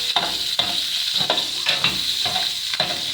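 Fat melting and sizzling in a large baking tray, a loud steady hiss broken by regular stirring scrapes about every half second, close up.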